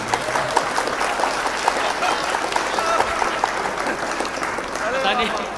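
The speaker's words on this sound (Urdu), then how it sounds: "ایک بار تالیاں بجا کے موڈ بنا." Audience clapping at an Urdu poetry gathering (mushaira), a dense, steady round of applause from many hands in a room, with a voice heard faintly beneath.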